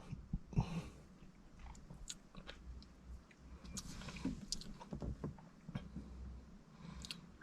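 Someone tasting KFC sweet chili sauce, probably with food from a Hot Rods box, makes close, soft chewing and biting sounds with small wet clicks and mouth noises in a quiet room.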